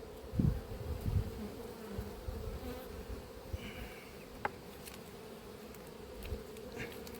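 Honeybees buzz around an opened, heavy hive in an apiary, a soft steady hum with a few bees droning close past, plus faint handling knocks and a sharp click.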